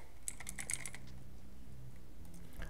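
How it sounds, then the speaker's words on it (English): Quiet keystrokes on a computer keyboard as a short search phrase is typed into Windows search, a quick cluster of light clicks near the start and then a lull with one faint tap at the end. "click here and type background apps"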